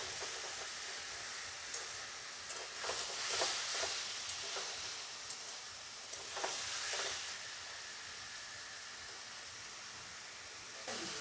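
Masala paste fries in oil in a home kitchen pan with a steady, close sizzle and hiss, broken by occasional louder bursts and stirring scrapes. No one speaks.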